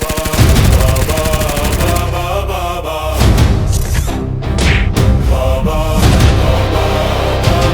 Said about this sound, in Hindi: एलियंस, गोलियां चलाओ और जल्दी से खत्म करो इस बाबा की कहानी।